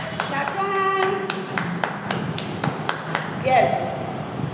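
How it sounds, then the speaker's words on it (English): Classroom children clap their hands, a loose run of crisp claps and taps close by, mixed with a teacher's voice and children's speech. "Clap your hands."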